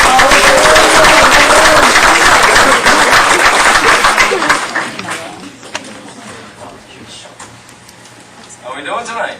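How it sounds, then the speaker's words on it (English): Loud, dense applause from a crowd at a school meeting, a sustained roar of clapping that fades out midway, followed by quieter room sound and a few voices. "How about a round of applause"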